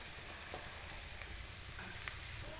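Turkey berries fry in spice masala in a pan, giving a steady soft sizzle with faint stirring clicks and no talk.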